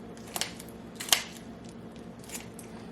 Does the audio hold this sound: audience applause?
no